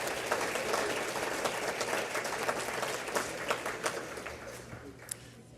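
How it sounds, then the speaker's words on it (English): Audience applause at a legal awards dinner and silent auction, dense clapping from a crowd that gradually thins and fades toward the end, with a low steady hum underneath. "Let's give Tiffany and her little one another round of applause."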